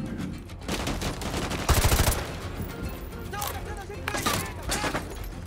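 Rapid gunfire shoots through windows in the Modern Warfare 2 Remastered campaign, dense overlapping bursts and single shots filling the whole stretch at close, loud range over steady battle noise.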